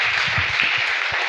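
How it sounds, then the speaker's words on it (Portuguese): A church congregation applauds during a sermon, giving a brief burst of dense, even clapping that fills the room at a steady level. "Você pode aplaudir a Jesus?"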